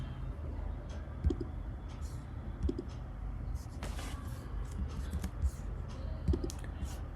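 Mouse and keyboard clicks at a computer during a coding session, a handful of soft, sharp, separate taps spread across a quiet room with low background hum.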